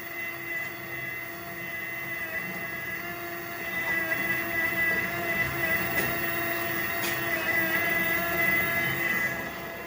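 An electric motor on the lower part of a machine runs with a steady tonal hum and a whining electrical drone that holds even throughout, with no voices.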